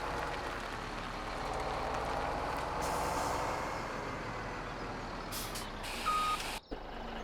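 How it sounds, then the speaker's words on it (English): An older truck in Farming Simulator 17 empties its load with a steady engine rumble, while reversing beeps and an air-brake hiss sound near the end. "Not the fastest of emptying trucks here, but it's kind of a really nice looking older truck there."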